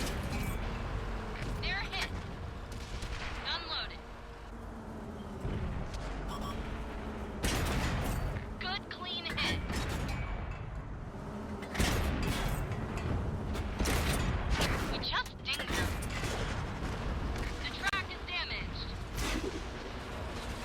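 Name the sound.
tank cannon fire in World of Tanks video game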